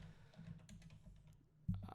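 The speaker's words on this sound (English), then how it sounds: "So let's type in the molten iron" Quiet typing on a computer keyboard, a few soft scattered key clicks at close range with a slightly louder tap near the end.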